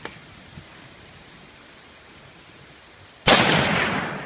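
A single .22-250 rifle shot cracks sharply outdoors after a quiet stretch, loud and close, its report decaying over about a second.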